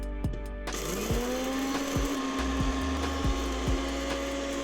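A blender motor roars steadily as it grinds de-seeded dried chilies into gochugaru flakes, a continuous loud whirring with faint rhythmic knocks from the spinning blades.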